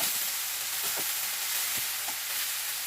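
Vegetables for a purslane dish sizzle loudly in a hot pan, a steady frying hiss with a few soft scraping knocks from stirring.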